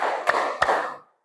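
Two sharp hand claps about a third of a second apart, counted out by a teacher leading a class, with a bright ringing room tail fading after the second clap.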